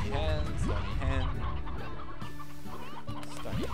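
Stony hens from the video game Slime Rancher cluck in a busy, layered game soundscape, several short clucks rising over constant background music and effects, with no voices in between.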